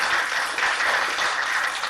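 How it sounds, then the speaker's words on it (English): A church congregation claps hands in praise, a dense, steady wash of many hands applauding together in a large room, continuous throughout with no voices on top. "Give Lord a hand clap of praise."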